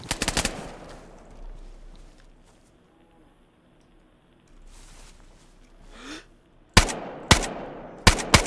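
DayZ gunfire comes in sharp, loud, isolated cracks: a quick cluster at the start, then quieter rustling and ambience, followed by four spaced, punchy shots near the end.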